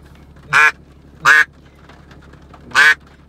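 A custom duck call is blown close and loud. It gives three sharp, high-pitched quacks, the first two in quick succession and the third after a short pause, over a quiet background.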